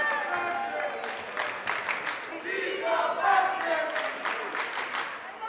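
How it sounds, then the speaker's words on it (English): A high school basketball crowd in a gym shouts and jeers loudly at a freshman player, a dense roar of many voices with some claps, swelling in the middle and staying busy throughout. "Crowd lets him know he's a freshman."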